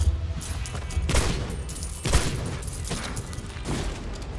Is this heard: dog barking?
no